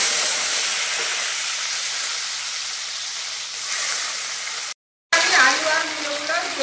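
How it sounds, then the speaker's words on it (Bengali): Broad beans (shim) frying in a pan for a potato curry give a steady broad hiss and sizzle, close and fairly loud, cut by a brief silent gap, with a voice murmuring faintly near the end. "এবার আমি শিম আলুর যে তরকারিটা বানাবো তার জন্য শিমগুলো ভেজে নেব।"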